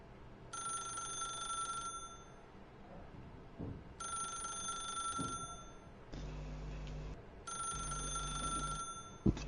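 Repeated electronic telephone ring from The Stanley Parable video game, three bursts of bright trilling tones separated by pauses, with a low droning tone between them.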